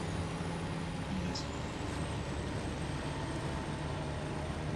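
A truck engine in the video game SnowRunner drones steadily with a low rumble and a short hiss like an air brake, moderately close.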